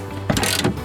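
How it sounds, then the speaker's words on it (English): Ratcheting clicks from a number 10 socket wrench working on the door of a 2006 Porsche Cayenne during a lock actuator replacement, a short close burst of mechanical clicking under a second long. "it calls for a number 10 socket wrench"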